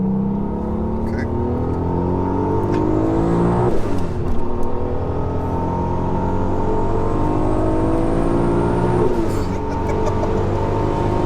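Turbocharged Audi S4 fitted with an R32 engine, roughly 949 bhp, pulls hard at full boost, its loud engine note climbing steadily through the gears with brief dips at each shift, heard from inside the car.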